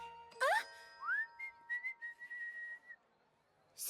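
A cartoon character whistles a short, bright melody of sustained and sliding notes while working outdoors near a hedge, with a small jingle at the start and no talking.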